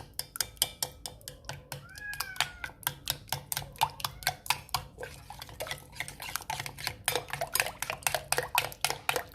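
An egg being mixed in a bowl for chocolate donut batter, rapid rhythmic clinking of a utensil against the bowl, close and continuous with brief pauses.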